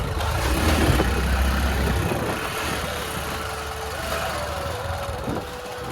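A motorbike is ridden along a rural road with a passenger aboard, its engine a steady mid-pitched drone with slight rises as it accelerates, heard up close throughout.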